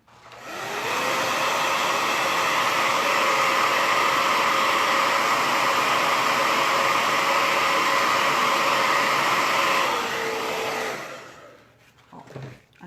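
A hair dryer runs steadily and loudly for about ten seconds, drying fresh paint on a round wooden pallet, then switches off and winds down, followed by a few faint handling knocks.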